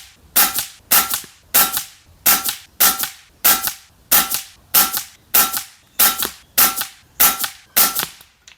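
An FX Wildcat .22 caliber air rifle with a 700 barrel fires at targets 100 yards away, about fourteen sharp, loud cracks at a steady rhythm roughly every 0.6 seconds.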